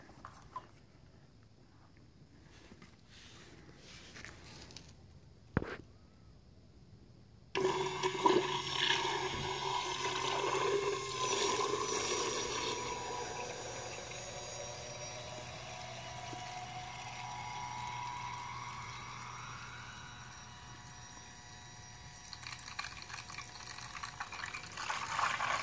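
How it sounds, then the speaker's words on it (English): An Aeromotive 340 Stealth fuel pump runs inside a homemade in-tank fuel surge tank on a Chevy C10, starting abruptly after a few faint clicks, then a steady whir with liquid splashing and a rising tone as fuel fills. "got the Aeromotive 340 stealth pump in it"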